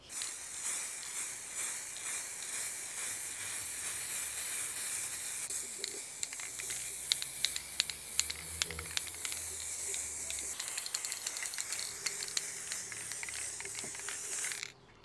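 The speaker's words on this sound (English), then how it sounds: "Never used spray lacquer before." Quick-dry clear spray lacquer hisses from an aerosol can in a workshop, a long continuous close spray with short bursts and nozzle clicks toward the end, and no talking.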